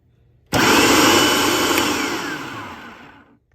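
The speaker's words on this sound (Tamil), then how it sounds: "இந்த அவிச்ச கோதுமை அப்படி கிளறி போட்டு நீ ஃபுட் ப்ரெஷரில் வெட்டி கொள்ள வேண்டும்." A food processor whirs loudly, chopping steamed wheat for puttu: an abrupt start followed by a steady high motor roar that slowly winds down, close and alone.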